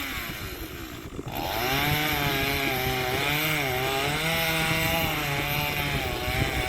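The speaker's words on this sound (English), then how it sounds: "This little chainsaw is taking a little bit. Little chainsaw against big oak tree." Small chainsaw revving up and then holding a loud, steady buzzing whine as it cuts into a large oak tree outdoors, close and continuous with slight pitch wavering under load.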